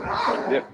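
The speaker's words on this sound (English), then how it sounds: "you can hear my dogs have turned into rancors upstairs" Several dogs barking and yipping upstairs, muffled and a little distant, in two short bursts with a brief spoken reply in between.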